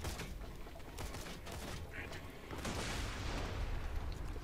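A grenade goes off in Borderlands 2, a loud booming blast with a dense, noisy burst of gunfire-like crackle swelling over the last half of the clip.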